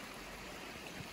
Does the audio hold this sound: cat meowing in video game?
no